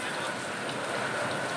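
Heavy rain falls in a continuous, even hiss, fairly quiet and unbroken, with no distinct drops standing out.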